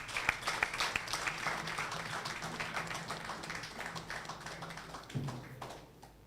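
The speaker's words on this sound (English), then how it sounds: "let's give him a round of applause" An audience at a cultural afternoon event applauds with a dense, steady round of clapping, moderately loud and close, tapering off near the end.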